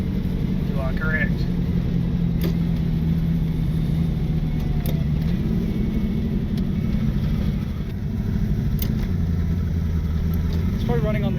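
Ford Falcon Fairmont revived after sitting in a shipping container, its engine running steadily at idle with a low droning hum and slight pitch rise, heard under people talking nearby.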